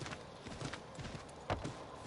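Horse hooves clip-clop steadily while riding in the game Assassin's Creed III Remastered, a brief, fairly soft rhythmic patter over a busy game soundscape.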